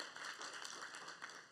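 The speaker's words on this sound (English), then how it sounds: "give them a big round of applause" Applause from a ceremony audience at a children's graduation program, honoring the parents; a steady, fairly faint wash of many hands clapping continuously, with no talk over it.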